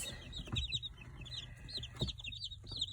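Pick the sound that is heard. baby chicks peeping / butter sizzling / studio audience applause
baby chicks peeping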